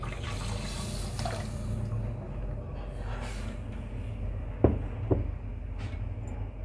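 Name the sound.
pouring milk into semolina halwa in the pan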